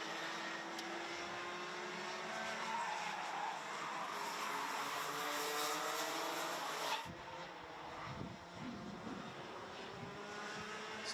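Rotax junior racing karts at the Euro Golden Trophy final run a lap together, a dense sustained engine drone that holds steady and then drops away sharply into lower, rumbling throttle changes as they brake toward a turn, with wind noise.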